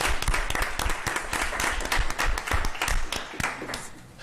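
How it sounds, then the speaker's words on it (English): Audience applause at a Jackson Public Schools board of trustees meeting, a dense, steady round of clapping from a room full of people that holds strong before tapering slightly. "Let's give them all another huge round of applause."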